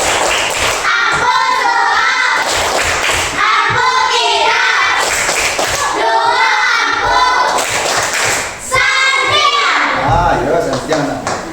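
A classroom of children performs a rhythmic clapping chant, with bursts of claps and voices in repeated rounds, loud and close, ending with a short pause.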